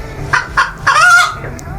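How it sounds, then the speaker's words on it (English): A hen calls close by with two short clucks followed by a longer, drawn-out cry. "H for hen,"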